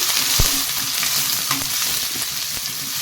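Chopped onion frying in hot oil with cumin seeds and chana dal, a loud continuous sizzle with occasional spatula taps and stirring scrapes close by, no talk.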